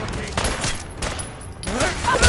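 Gunfire in the Fallout 4 video game: dense, rapid bursts of shots run nearly throughout, loud and close, mixed with voices and game effects.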